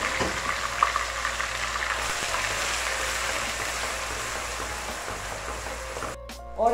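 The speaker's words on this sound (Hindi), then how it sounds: "इसको तकरीबन 2-3 मिनट के लिए ऑयल में अच्छी तरह फ्राई करूँगी" Onion paste fries in oil in a pan while cholay is being made, giving a steady soft sizzle and bubbling. A few clatters of utensils come at the end.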